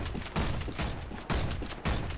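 Gunfire in the online shooter Warface, several loud bursts of rapid shots in quick succession with short gaps between them, alone without talk.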